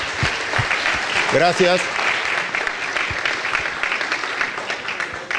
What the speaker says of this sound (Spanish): les vuelvo a pedir un aplauso para los disertantes